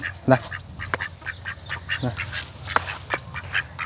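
Several short duck quacks burst out at intervals against a busy outdoor background, with faint voices and other bird calls mixed in.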